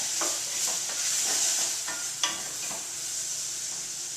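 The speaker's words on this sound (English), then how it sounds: "Stir that up, and that will continue to cook for another 3 minutes or so." Garlic and spices fry in a pot for asparagus soup while a spoon stirs them: a steady close sizzle with soft scraping strokes and one sharper knock, and no voices.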